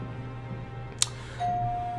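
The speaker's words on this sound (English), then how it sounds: "Who the fuck just rang my doorbell?" A short doorbell chime: a quick click, then a single clear electronic tone that rings and holds to the end.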